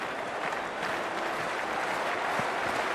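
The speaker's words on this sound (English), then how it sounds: "already the crowd is up and about" Crowd at a Hundred cricket match between Brave and Phoenix, a dense, steady wash of applause and cheering filling the stadium throughout, loud and continuous with no distinct voices.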